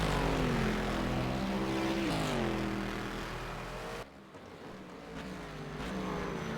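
Race cars in a sim-racing endurance game at Bahrain accelerate through corners, a steady loud engine drone with rising and falling pitch that dips briefly, then swells again.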